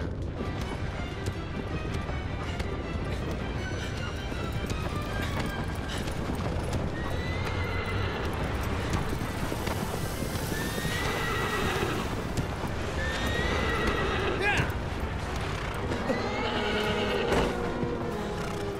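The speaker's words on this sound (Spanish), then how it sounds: "Conducir el caballo a la vez." A horse in Shadow of the Colossus gallops with steady clip-clopping hooves and gives repeated neighs and whinnies over a dense, continuous game soundscape, loud and close throughout.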